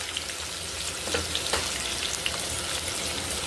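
Onions, tomatoes and eggs fry golden in a pan for shahi Afghani egg curry, making a steady, close sizzle with scattered small pops and no talk.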